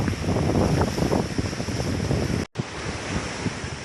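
Ocean surf rolls onto an Amelia Island beach in a steady, loud wash, with heavy wind buffeting the microphone throughout and a brief dropout partway through.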